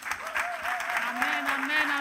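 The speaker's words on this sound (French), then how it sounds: "si l'église peut acclamer pour Jésus-Christ" A church congregation applauds for Jesus Christ, steady dense clapping with voices and a sung or called tone running over it.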